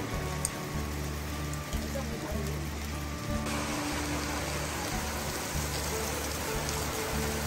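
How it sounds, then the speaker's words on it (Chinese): Heavy rain falls suddenly over an old village, a dense close patter on surfaces with a steady low hum beneath. "突然下大雨。"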